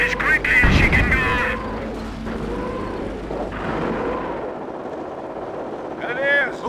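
Artillery barrage in Company of Heroes, with heavy booming blasts up front, then rumbling and scattered impacts as shouted voices call out over the battle din.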